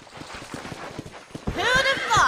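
Horse hooves clopping at a gallop in the Red Dead Redemption video game, a quick rhythmic series of close hoof strikes that ends in a loud whinny.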